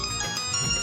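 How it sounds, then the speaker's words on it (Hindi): A phone ringtone plays close and clear, a bright tonal melody sounding steadily for under a second with no voices over it. "अरे ये तो सोने का फोन है।"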